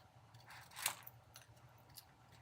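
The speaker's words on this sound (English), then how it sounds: "when you cut, you just move the paper more than your scissors" Scissors snip through paper in a quiet setting, one sharp crisp cut standing out amid faint rustling and a few lighter clips.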